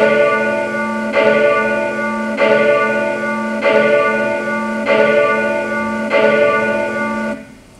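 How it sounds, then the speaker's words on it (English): Church bells in an animation peal in a slow, regular rhythm, six strong rich strikes each ringing on into the next, loud and alone, fading out at the end. "this little animation is going to show you how bells are rung in this church"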